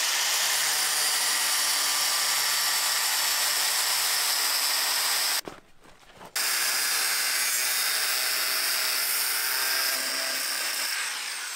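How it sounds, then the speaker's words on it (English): A grinder cuts out a badly rusted metal screw on a broken tent frame, a loud, continuous high whine that stops for about a second and then starts again. "they are secured by really rusty screw that is unreleasable. So I guess we have to grind it out"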